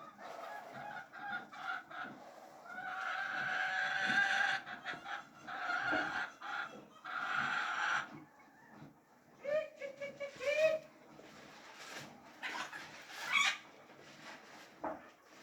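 Chickens on a small home flock cluck and call in irregular bursts, some nearby and fairly loud, with a few higher squawks and soft crowing-like notes mixed in, no speech over them.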